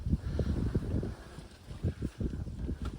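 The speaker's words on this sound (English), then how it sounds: "Sorry, it's really windy" Strong wind buffets an outdoor microphone on a waterfowl hunt, making a low rumbling, gusty roar that rises and falls in irregular pulses for a few seconds.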